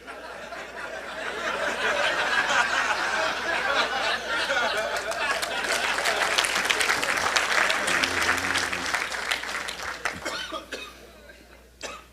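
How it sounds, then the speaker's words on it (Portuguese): An audience at a live talk breaks into sustained applause, dense clapping swelling and holding for several seconds, with scattered coughs and murmurs, then thinning out and fading near the end. "Eu sei porque você aplaudiu."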